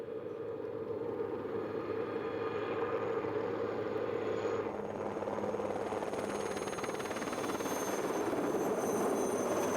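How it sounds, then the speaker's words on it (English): A helicopter arriving from Zermatt near the Matterhorn for a mountain rescue fills the whole stretch with rotor chop and engine roar, loud and steady, as if close by or approaching. "A helicopter arrives from Zermatt."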